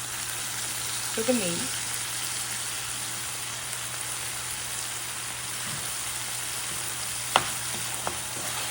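Seasoned meat, dressed with cayenne pepper and a seasoning blend, fries and is stirred in a pan for baked beans. The sizzle is a constant close, rain-like hiss, with a brief voice early on and a couple of sharp clicks near the end.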